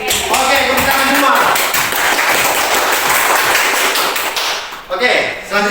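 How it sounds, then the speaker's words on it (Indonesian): Group of people in a classroom claps together after names are read out, loud and close, with voices speaking over the clapping and a brief pause near the end. "Oke, tepuk tangan semua."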